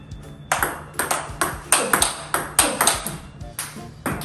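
Table tennis drive shots hit with TIBHAR Evolution FX-D rubber, a steady rally of sharp, crisp pings from ball on paddle and table, about twelve evenly spaced hits, close and loud with no talking.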